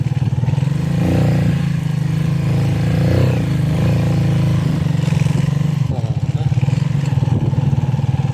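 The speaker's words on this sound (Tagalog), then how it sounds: "Daming motor, no?" Motorcycle engines drone and rumble close by on a rough road, a steady loud low-pitched engine throb with occasional rising revs and clatter, continuing for several seconds.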